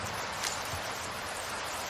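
Heavy rain falls in the Resident Evil 4 remake video game, a steady, dense hiss of downpour heard alone at low level with no talking.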